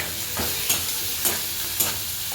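Onion and garlic paste sizzling in a hot pan, a constant frying hiss broken by about four rhythmic scraping strokes of a spoon as it is stirred, close up.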